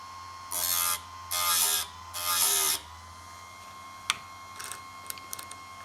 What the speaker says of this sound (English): just go around the teeth and sharpen it all up